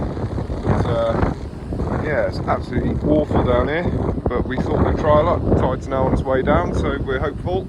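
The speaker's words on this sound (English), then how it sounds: "Excuse the wind, it's a very windy day unfortunately." Strong wind buffets the microphone on a blustery UK beach, a steady low roar and rumble that continues under someone talking throughout.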